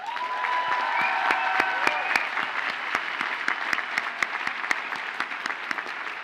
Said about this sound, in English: Please join me in thanking and applauding them for the support and encouragement they have provided